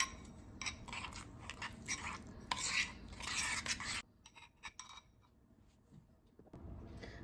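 Scraping and rubbing of a utensil stirring a mixture in a bowl, steady and close for several seconds, then quieter, sparser scrapes.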